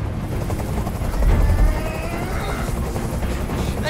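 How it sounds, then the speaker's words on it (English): A helicopter hovers overhead in the video game Detroit: Become Human, a steady loud rotor rumble with rhythmic low thumping that swells briefly, continuous throughout with no voices. "I can't stand that noise anymore! Tell that helicopter to get out of here!"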